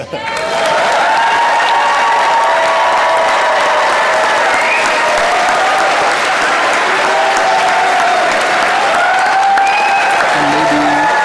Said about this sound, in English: Now we're supposed to call for applause.